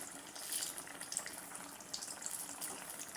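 Raw mustard oil pours into a pan for cooking hilsa fish that is full of roe, giving a steady close hiss and splash that carries on without a break and with no talk over it.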